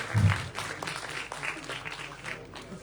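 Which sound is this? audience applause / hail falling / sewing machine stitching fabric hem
audience applause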